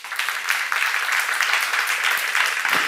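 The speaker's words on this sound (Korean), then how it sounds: "이해가 사람은 박수 한번 쳐보세요." Steady, full applause from a church congregation during a seminar on Hebrews, a crowd of hands clapping continuously and fairly loudly for about three seconds without any talking.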